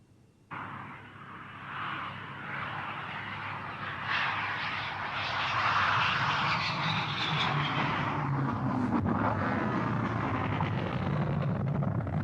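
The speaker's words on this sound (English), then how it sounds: "The first Phantom made several passes overhead before coming into land." An F-4 Phantom fighter jet passes overhead, its engine roar rising from a sudden onset into a loud, broad rumbling rush that swells and holds steady as the aircraft sweeps by, with no voices.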